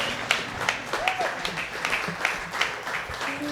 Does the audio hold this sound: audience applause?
yes